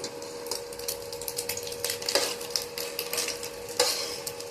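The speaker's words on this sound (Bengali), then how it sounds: "ডিমটাকে ভেজে নিচ্ছি।" Egg frying in oil in a pan while mixed fried rice is being made: a steady close sizzle with scattered scraping and tapping of a spatula, and no talking.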